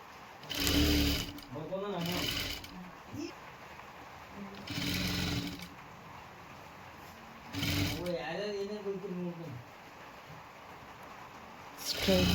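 A sewing machine stitches a princess blouse with a half-inch seam, running in several short, whirring bursts separated by pauses in which someone talks.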